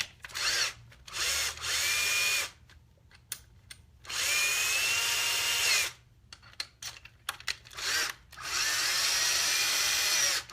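Power drill biting through the side wall of a PT01 housing while fitting a lithium battery, in three long loud bursts of whirring and grinding separated by short stop-and-start taps, close to the microphone with no talk.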